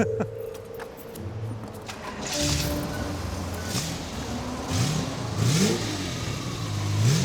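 A small car engine revs up from idle, rising and falling in several swells, close and fairly loud, with faint talk in the background.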